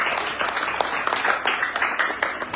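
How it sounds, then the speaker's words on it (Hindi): An audience bursts into sustained applause welcoming a guest at a poetry recitation competition, dense and steady clapping from a crowd with faint voices underneath. "जोरदार तालियों से स्वागत करें सर का"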